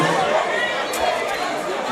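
A crowd chatters at a school sports meet at McDonald College, a diffuse murmur of many voices blending into a steady wash, fairly loud and unbroken across the short span.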